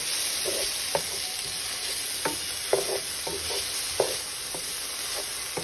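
Tomatoes are crushed and shiitake mushrooms stirred in a pan for lasagna, with a steady sizzle under repeated soft scrapes and taps of a spoon, and no talk.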